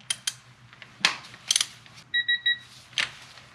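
A digital torque adapter set at 14 foot-pounds gives a few short high beeps, then a quick run of three tones, amid light clicks and mechanical handling during Toyota 1GR-FE timing chain installation.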